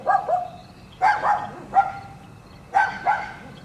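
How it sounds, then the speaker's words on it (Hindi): A pet dog barks in a home at night, four or five sharp, fairly close barks in two uneven bursts, with brief whimpering tones between them and no talk. "ये रात में मुझे भी भौंकना शुरू कर देता है।"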